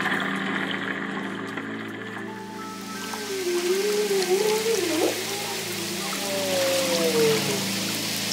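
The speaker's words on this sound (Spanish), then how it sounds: "El canto de la ballena." Humpback whale song picked up by an underwater microphone: long, sliding, moaning tones that rise and wobble over a low steady hum and faint crackle, fairly clear and unaccompanied by talk.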